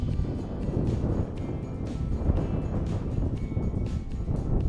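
Strong wind buffeting a mountain summit above 10,000 feet with snow on the ground: rough, gusty roar rising and falling throughout, no talking.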